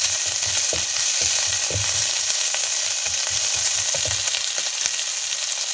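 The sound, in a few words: ginger paste frying in oil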